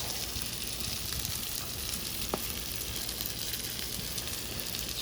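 Bread toasts in melted butter in a hot pan for steak and cheese sandwiches, giving a steady, soft, continuous sizzle and crackle heard up close, with no voices over it.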